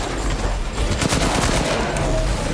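Rapid gunfire from a weapon in the video game Resident Evil Village crackles in a dense, loud burst of overlapping shots lasting a couple of seconds, with no talking.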